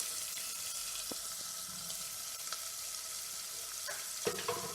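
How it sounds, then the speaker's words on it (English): Chana dal, roasted lima beans and sambar powder being stirred in a hot pan for methi upma, with a steady soft sizzle, a few scraping clicks from a spoon, and no talking. "And now we will just give it a nice mix."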